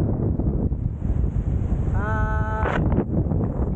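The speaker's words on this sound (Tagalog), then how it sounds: "Walang ulan, pero lakas ng hangin" Strong wind at a beach in Tuscany roars and buffets the microphone in a continuous rushing noise, with a brief tonal wail partway through.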